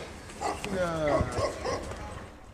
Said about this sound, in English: I keep several dogs here. Some of them are quite rare. Like the Tibetan Mastiff